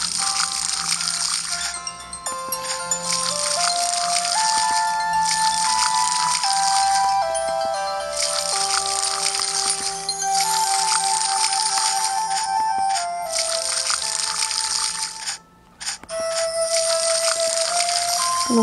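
Watering a field in Harvest Moon: repeated watery rattling bursts, each lasting a second or so, play at a steady rhythm over a bright melodic game tune, with a brief pause near the end.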